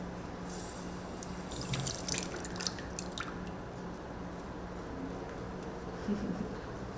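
Water runs and splashes into a shallow gecko water dish, a steady trickling pour with a few brighter drips, close up, with no voices.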